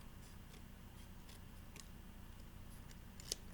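Faint, quiet snips of scissors trimming a small paper triangle for a school-age craft, a few soft cuts in a calm room.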